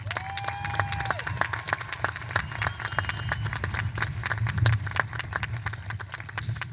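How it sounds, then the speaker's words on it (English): Audience applause for graduates at a North Monterey County High School graduation ceremony, dense steady clapping with scattered cheers and whoops, sustained and fairly loud throughout. "Let's please give them a round of applause."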